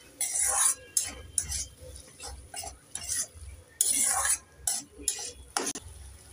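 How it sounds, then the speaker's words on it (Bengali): Green peas stirred with spices in a pan for a Bengali potato curry, with repeated bursts of spoon scraping and clinking against the pan over a light sizzle. The bursts are close and irregular, separated by short quieter gaps. "এবার নেড়ে চেড়ে মশলার সাথে মটরশুঁটিটাকে আমি 2 মিনিট ভালো করে কষে নেব।"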